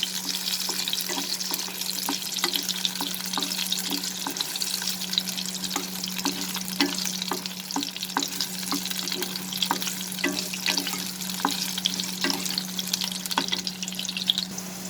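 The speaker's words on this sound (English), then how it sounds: "We'll saute this for 30 seconds." Raw mango sizzles and fries in a hot pan for a mango dal, a steady hiss with frequent light stirring clicks, close and continuous with no talk.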